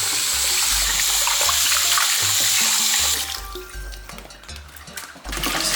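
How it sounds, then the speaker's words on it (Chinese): Running tap water pours hard and steadily over chopped chicken being rinsed for a Chaozhou-style mushroom chicken soup, then the stream softens and splashes unevenly as the meat is moved under it. "洗干净，让它冲一下水，"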